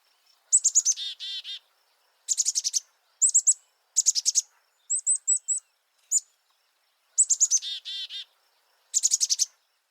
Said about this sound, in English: They're known for their very recognizable Chickadee-dee-dee call